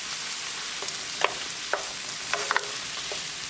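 Red chilies sizzling in olive oil for a tadka, a soft continuous fry with a few light stirring clicks scattered through, quiet and close.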